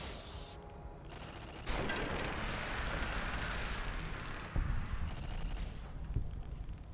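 Turret gunfire in Fallout: New Vegas, a sustained fusillade of rapid shots that thickens into a louder, denser barrage partway through and continues steadily to the end, with no voices.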